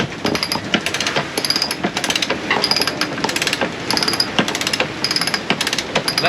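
Manual winch on a sailboat cranked to tighten the mainsail, a rapid ratcheting click in repeated bursts, close and loud.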